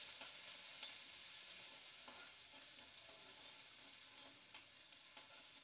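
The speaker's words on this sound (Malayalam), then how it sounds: "ചതച്ച ചെറുള്ളി വെളുത്തുള്ളി ഇട്ട് നമുക്ക് നന്നായിട്ടൊന്ന് ഇളക്കി കൊടുക്കാം" Crushed shallots and garlic stirred in a frying pan with dried red chillies, a steady, faint, soft sizzle broken by occasional light scrapes of the spoon.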